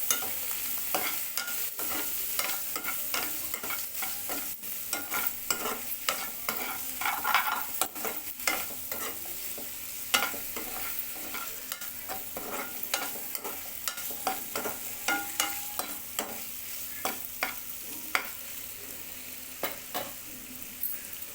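Spicy paneer tikka pieces seasoned with salt sizzle in a hot pan, while a spoon stirs and scrapes them in a steady series of quick, close clicks over the constant frying hiss.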